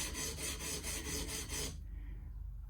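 Guitar fret ends being filed back and forth, a rhythmic rasping stroke repeated about eight times, close and faint, then stopping into quiet.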